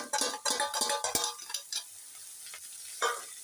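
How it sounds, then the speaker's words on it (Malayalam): Fried bitter gourd, onion and turmeric mix is stirred into oil in a pan, with a burst of close clattering scrapes and sizzle at first, thinning to a quieter fry with an occasional scrape. "എണ്ണ ഒഴിച്ചിട്ട് ഈ വറുത്ത് കോരി മാറ്റി വെച്ചിരിക്കുന്ന കയ്പ്പയ്ക്ക, പിന്നെ ഉള്ളി, ഇത്തിരി ഇതിട്ടിട്ട് മഞ്ഞൾപ്പൊടി ഇട്ടിട്ടുള്ള ഈ മിക്സ് ഇതിലോട്ട് ഇടുക"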